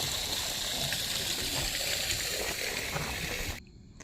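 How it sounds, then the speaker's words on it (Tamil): Steady, rushing water gushes from the outlet of a solar-powered Texmo AC motor pump, a constant broadband splashing close by that cuts off abruptly near the end, leaving quiet hiss. "இப்போ சோலார் போட்டனால தண்ணி நல்ல விதமாக வந்துட்டு இருக்கேண்ணா."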